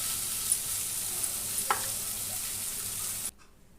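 Spices, vegetables and tomatoes fry for a quail egg curry, a soft, steady sizzle with a few light stirring clicks before stopping abruptly near the end.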